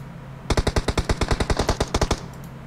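Automatic gunfire in the mobile game PUBG Mobile during a pro scrim match: one rapid burst of about sixteen sharp, loud shots in quick, even succession that then stops.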